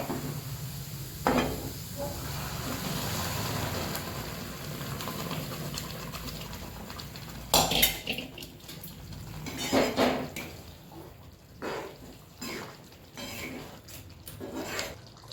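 Boiled vegetables go into fried masala in a pan, producing clattering, scraping and sloshing bursts with quieter gaps between them.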